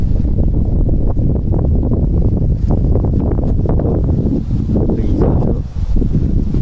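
Strong wind blows outdoors in open countryside in the Gard after rain, a loud, continuous gusty roar buffeting the microphone, with brief lulls and swells.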